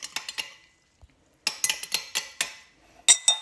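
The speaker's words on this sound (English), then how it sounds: "And then you give that a little mix with your spoon." A spoon stirs oil, bicarbonate of soda and food colouring in a container, giving a series of quick light clinks and scrapes in short bursts with small pauses, close and clear, no voices.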